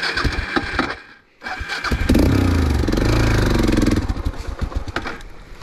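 A Suzuki DR650 motorcycle engine revs hard while crossing a river in the Northern Territory, rising to a loud sustained high-rev drone after a brief dip, with splashing water around it.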